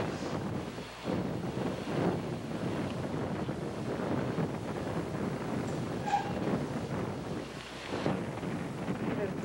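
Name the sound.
wind blowing at a lakeside beach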